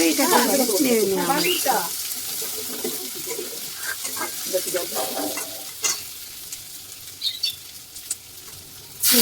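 Cumin seeds, chilli and three bay leaves frying in hot oil in a pan for a vegetarian lau ghonto, a loud sizzle with stirring scrapes at first that quiets to a softer crackle with occasional clinks.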